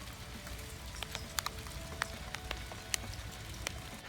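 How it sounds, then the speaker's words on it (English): Hail falling outdoors in Idaho weather, scattered sharp ticks and pings striking surfaces over a soft steady wash, faint and irregular, with no talking. "So this is no longer snow, now it's hailing."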